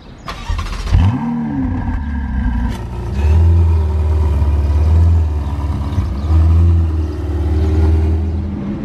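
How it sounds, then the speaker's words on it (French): An Italian V8 car fires up in Monaco with a sharp starter bark and rising flare, then settles into a deep, loud idle broken by repeated throttle blips, close by with no voices. "encore un V8 italien qui va démarrer"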